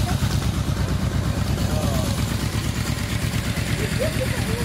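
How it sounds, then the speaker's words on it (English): Yamaha motorcycle engine running at a steady idle close by, under a voice talking throughout. "How is that Yamaha? It's a beautiful bike."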